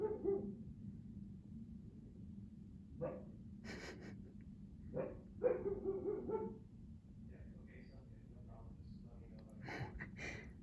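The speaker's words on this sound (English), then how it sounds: "Very rare that we hear him bark." A dog barks outdoors on a cold, windy day, giving a few separate barks spread across the stretch, with steady wind noise underneath and a person talking in between.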